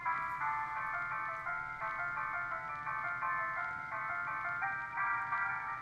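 A gramophone in the video game Alone in the Dark plays a tinkling, repetitive music-box-like melody of bright, evenly spaced notes, steady and moderately loud with no talking.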